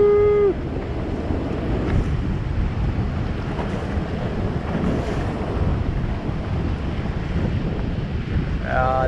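Big 8-foot winter swell waves breaking at a Cape Verde surf spot, with steady loud wind buffeting the microphone throughout and a continuous rumbling roar of surf close by.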